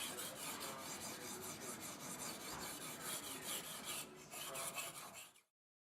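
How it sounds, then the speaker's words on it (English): A knife blade rasps steadily against a 1200 grit diamond sharpening stone, rhythmic back-and-forth scraping strokes close up, fairly quiet, ending abruptly. "Now I'm sharpening it with the 1200 grit diamond stone."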